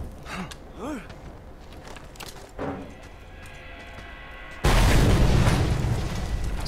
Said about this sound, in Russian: Так, взрываем, поджигаем.